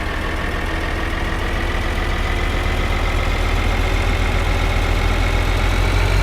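A tractor engine in Farming Simulator 2013 idles and runs steadily, a loud, low continuous drone with mechanical rumble that holds unchanged from start to finish, with no talking over it.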